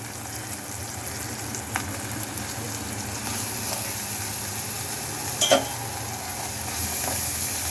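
Ginger garlic paste fries in oil in a pan for an anchovy fish curry, a steady close sizzle running throughout with a few faint utensil clinks.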